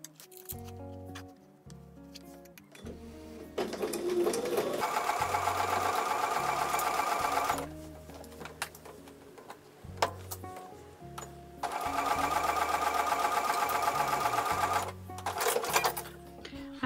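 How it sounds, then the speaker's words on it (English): A sewing machine stitches quarter-inch seams on an 8-inch Solitaire quilt block in two sustained, steady runs, each lasting a few seconds, with short pauses between them. "then sew with a 1/4 inch seam"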